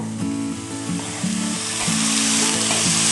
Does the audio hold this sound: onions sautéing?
yes